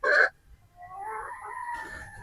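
Gamefowl pullets, three-quarter Sweater chickens, on a game farm: one short loud squawk or crow burst up close, followed by softer drawn-out clucking and calling.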